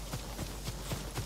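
Horse hooves clip-clopping in Ghost of Tsushima, a steady run of soft, evenly spaced thuds at moderate distance with no voices over them.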